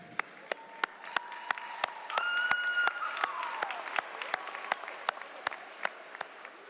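A commencement audience breaks into a round of applause, dense clapping that swells in the middle and then thins into scattered individual claps toward the end, with no talking over it.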